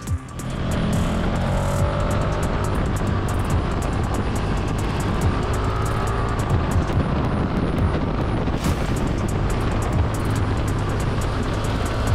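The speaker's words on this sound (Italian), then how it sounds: "Una Panigale spogliata con un motore V4 a dir poco arrembante" A loud Ducati Panigale V4 naked motorcycle engine roars steadily for several seconds, harsh and close, with wind buffeting the microphone throughout.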